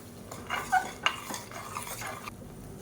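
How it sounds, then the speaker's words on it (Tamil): Ground masala paste for mutton curry being stirred and sautéed in a pan, with scattered scraping clinks of a spoon against metal and a faint sizzle, close and moderately quiet. "இப்போ இதில் நம்ம அரைச்சி வச்சுருக்க இந்த பேஸ்ட்டை சேர்த்துக்கலாம் சேர்த்துட்டு நல்லா வதக்கி விட்டுக்கலாம்"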